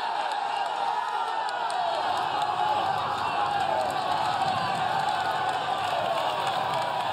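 Roadside crowd at a Tour de France mountain stage, a steady wash of cheering, shouting and whooping that stays loud and continuous throughout, with voices blending into the roar.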